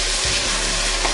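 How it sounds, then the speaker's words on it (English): Water hits a hot pan of caramelized onions for French onion soup, giving a loud, continuous close sizzle and hiss as the dark caramel loosens. "you add a 1/4 cup of water. This helps loosen any of the dark caramel in the bottom and sides of the pan"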